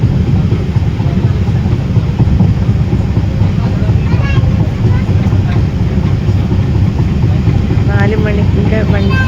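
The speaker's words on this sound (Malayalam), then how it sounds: "നമ്മളപ്പോൾ മാംഗ്ലൂരിൽ നിന്ന് പാലക്കാടിലേക്ക് തിരിച്ച് ട്രെയിനിൽ പോയിക്കൊണ്ടിരിക്കുകയാണ്" Constant low rumble of a moving train travelling from Mangalore to Palakkad, with rattling wheels and engine drone, loud and steady from start to finish.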